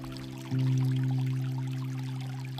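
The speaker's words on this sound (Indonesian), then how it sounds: "terdengar suara-suara gemercikan air dari sungai kecil yang jernih" Steady trickling water from a small, clear stream over a constant low hum, with a faint shift partway through; continuous and fairly quiet throughout.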